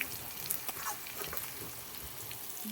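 Duck meat with onion frying in a pan gives a steady, close sizzle with occasional small pops and crackles throughout, no voices.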